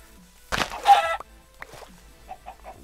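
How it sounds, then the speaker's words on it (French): Chickens in a video game cluck and squawk nearby, one loud burst of flustered clucking followed by softer, spaced clucks against quiet background, with no talking. "Petit poulet."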